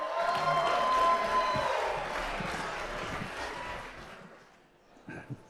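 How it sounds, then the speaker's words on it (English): Wedding reception guests cheer and whoop as the father of the bride is brought up; the crowd noise is lively at first and fades away after about four seconds, followed by a couple of faint knocks. "How about a nice round of applause for Valdemar Niklinski?"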